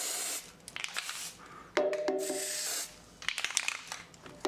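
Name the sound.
spraying lithium grease into car part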